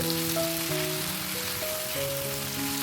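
Chopped onion and tomato fry in a pan for egg tadka while being stirred, giving a steady, close sizzle and crackle that runs without a break, with a faint tonal hum underneath.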